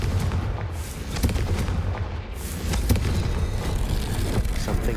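A Confringo blasting spell explodes in a Harry Potter video game, with a dense, sustained roar of booming blasts and crackling bursts filling the scene, loud and continuous with sharp hits scattered throughout.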